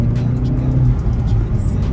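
A bone-stock Hyundai i30N with its factory exhaust and no custom downpipes runs with a steady, loud, low engine drone and road rumble throughout.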